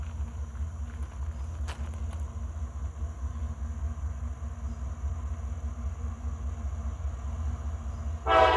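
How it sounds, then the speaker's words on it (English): A coal train rumbles past a trackside spot in Abbeville, a constant low drone for several seconds before a short, louder burst at the very end. "He's honking the horn at us, y'all."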